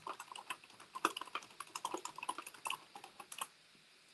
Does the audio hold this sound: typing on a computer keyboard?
yes